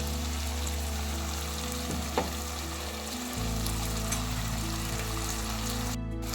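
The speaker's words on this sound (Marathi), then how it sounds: "वाटण घालून पुन्हा एकदा ही भाजी व्यवस्थित परतून घ्यायची आहे" Bitter field beans sautéed with ground masala paste in a pan, giving a constant close sizzle and frying crackle with stirring scrapes and a steady background hum.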